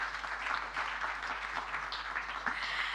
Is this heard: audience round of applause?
yes